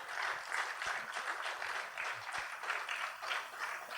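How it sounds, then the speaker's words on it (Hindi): Faint, steady applause rises from the audience at a literary event on Urdu poetry and language, a soft, even patter of many hands lasting about four seconds, heard from a distance. "इस जुनून के नाम एक जोरदार तालियां"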